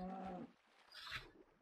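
A cow in a video game gives one short, low moo that fades quickly into faint background noise.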